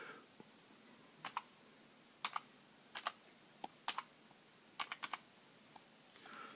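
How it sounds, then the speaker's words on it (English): A control string is typed on a computer keyboard: sparse, crisp key clicks in small clusters with quiet gaps, close and fairly faint over a hiss, with no voice. "So I typed in a control string and I hit enter"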